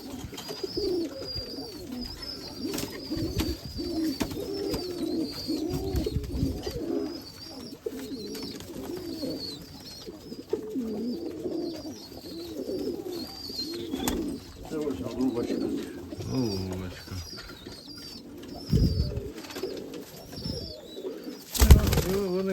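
Shaggy crested flying pigeons cooing in a dovecote, repeated soft coos and murmurs with occasional wing flaps, close by, with people talking at intervals.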